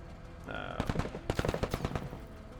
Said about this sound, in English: Maybe we just take some long range shots at you guys.